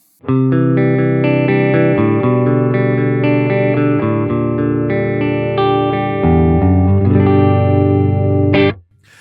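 Electric guitar played through the Odin amp simulator, chords ringing out sustained and loud, alone, ending with a sharp final strum.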